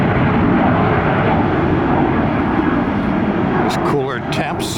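An airliner roars loudly and steadily as it takes off from a Tampa airport runway in cool weather with northerly winds. The broad engine rumble fills the scene and fades slightly at the end, while a person talks over it.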